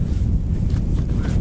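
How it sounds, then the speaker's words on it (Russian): Cold wind buffets the microphone outdoors at a winter tent camp, a steady low rumbling roar filling the short moment without speech. "Холодно, ветер."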